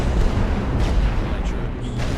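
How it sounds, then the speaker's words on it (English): Continuous low rumbling booms of artillery fire in The Great War: Western Front, a dense heavy barrage rolling on without pause, with no talk over it. "Artillery fire."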